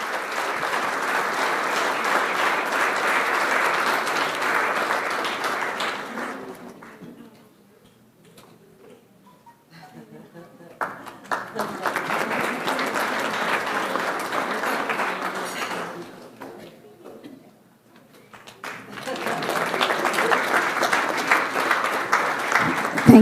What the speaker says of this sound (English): please give them a big round of applause for this great achievement